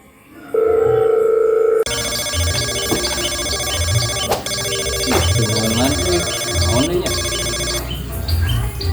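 A telephone rings loudly with a repeating electronic ringtone in steady bursts, starting after a short tone, with faint background sounds underneath and no talking.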